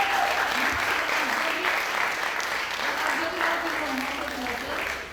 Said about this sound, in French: nous applaudissons